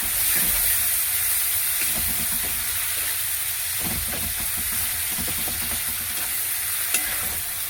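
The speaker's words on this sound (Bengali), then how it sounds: "মশলাটাকে ভালো করে ভাজা হয়ে গেছে" Spices fry in hot oil in a pan with a loud, steady sizzle and hiss throughout, broken by occasional scraping strokes of stirring, with no talking.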